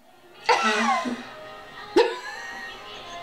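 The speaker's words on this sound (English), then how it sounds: "That's a cough" Two sharp, close coughs about a second and a half apart during a laughing game at home, each a sudden voiced burst that fades quickly.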